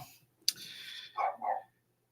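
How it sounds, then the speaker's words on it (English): A dog barks at a football match, first a sharp yip and then two quick barks close by, followed by silence. "I don't know what she's barking at"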